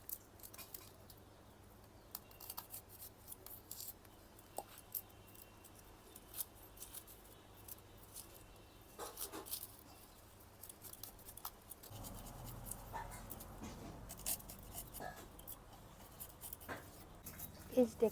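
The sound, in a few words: cutting onion, ginger and garlic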